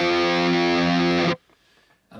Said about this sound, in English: it just does some straight up power chords into the chorus.